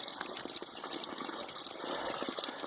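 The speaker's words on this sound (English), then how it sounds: "Filtering water" Water being pumped through a filter beside an Appalachian Trail stream, a steady close trickling and gushing with faint splashes, running without pause.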